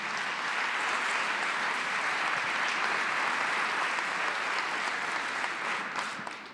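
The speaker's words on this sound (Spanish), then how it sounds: "Demos un fuerte aplauso a todos los galardonados." Crowd applause for Paralympic award winners at a Lima 2019 awards ceremony, with sustained, even clapping from a large audience that stays strong throughout and tapers slightly at the end.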